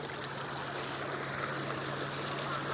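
Floodwater in Nigeria flowing steadily, a constant rushing wash with a low hum beneath, loud and close throughout with no break or talk.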